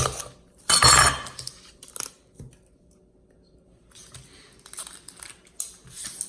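A knife dices an onion on a cutting board for stuffed ribeye pinwheels: a loud clattering burst, then sparse, irregular taps and clicks, with no talking.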